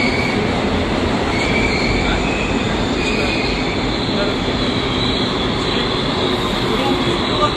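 A subway train rushes into a station at speed, its wheels squealing over a constant loud rumble and rail clatter, with a voice talking over the noise.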